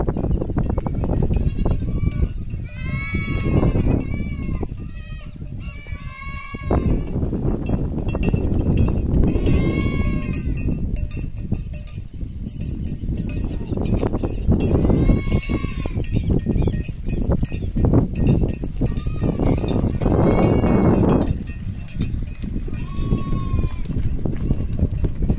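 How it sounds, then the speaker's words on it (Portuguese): A herd of cattle arrives at a vaquejada training park, with animal calls rising repeatedly over a constant loud rumble of hooves and movement, and people talking throughout. "boiada chegando"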